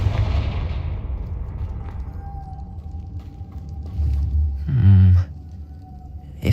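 Confringo blasting spell from Hogwarts Legacy erupts in heavy booming explosions, one deep rumbling blast swelling near the end over a low hum, with a fainter earlier burst at the start.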